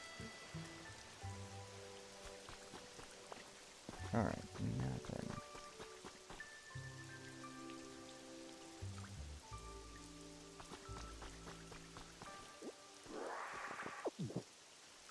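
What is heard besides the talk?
rain falling in a Pokémon video game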